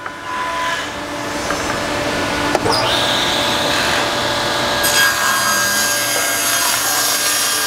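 A saw rips lengthwise down the middle of a barn wood board being cut for a mantel, a continuous close cutting roar with a sharp knock partway through and no speech.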